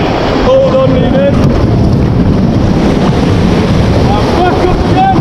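A river raft paddled through rapids in Snowdonia, North Wales, a loud constant rush of churning white water with wind buffeting the microphone and faint voices underneath.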